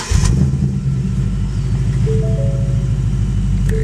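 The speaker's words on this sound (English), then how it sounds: "I'll start the car as well, just so you get an idea of the dash" A 2015 Ford Mustang GT V8 engine starting up, with a quick cranking burst that settles into a loud, steady, throbbing idle close by, while faint electronic dash chimes sound toward the end.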